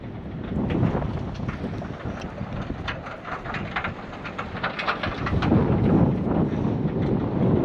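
Strong wind gusts across an open field near a cluster of wind turbines, a steady roaring rumble buffeting the microphone throughout with no speech.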